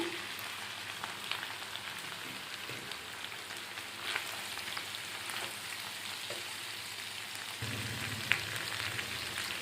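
Brinjal and broad beans fry in a pan, giving a steady soft sizzle with faint crackles throughout and a slightly louder hiss near the end, with no voices.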